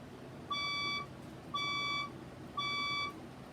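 Three evenly spaced electronic fire alarm beeps, each about half a second long, sound close and clear above a low background hum, with no voices present.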